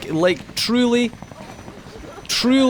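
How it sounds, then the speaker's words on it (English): A helicopter arrives at a nightclub in the video game Max Payne 3, its steady whirring noise running low beneath loud bursts of people talking. "They arrive to Da Club in a sweet helicopter."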